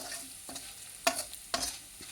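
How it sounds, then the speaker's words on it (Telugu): Flattened rice (poha) shallow frying in oil, a soft continuous sizzle broken by a few sharp scraping stirs of a ladle against the pan, fairly faint and close, with no talking. "ఇలా ఇలా వేసేసుకుని అటుకులు కూడా మనం షాలో ఫ్రై లాగా చేసుకోవాలన్నమాట"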